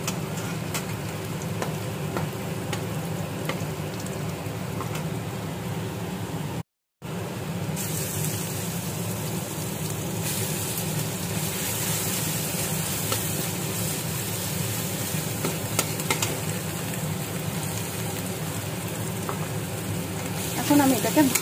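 Garlic, ginger and green chili sizzle in hot oil for a shrimp shutki dish with sweet pumpkin, a steady close frying hiss that runs throughout, broken by one brief dropout, with occasional soft stirring.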